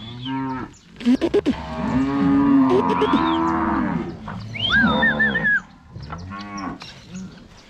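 Nelore cattle moo loudly and close by in repeated long, drawn-out calls, several bellows overlapping and rising and falling, with no human voices heard.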